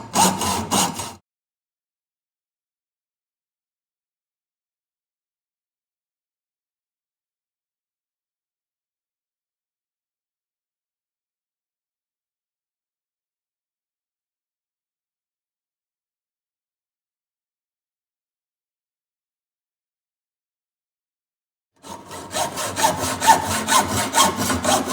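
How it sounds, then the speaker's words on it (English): A hacksaw cuts a tooth in two short bursts of rasping strokes, one at the very start and one near the end, with a long silence between them. "even with a simple tool like a hacksaw"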